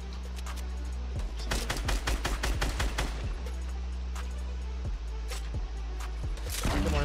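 Rapid automatic gunfire in the Fortnite battle royale video game, several close, loud bursts of fast shots separated by short pauses, over a steady low game hum.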